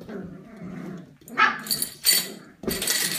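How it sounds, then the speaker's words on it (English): Puppies playing with toys, with low growls and yips coming in bursts at close range, mixed with the rustle and tug of play. "Who's growling? Are you both growling?"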